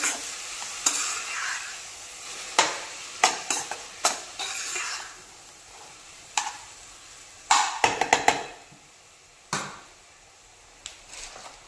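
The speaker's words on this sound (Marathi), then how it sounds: "आता पहा इथे मी कांदा छान असा भाजून घेणार आहे" Onion frying in butter in a pan over a high gas flame, with a soft sizzle under intermittent sharp scrapes and clinks of a spoon stirring against the pan, close by and fairly quiet.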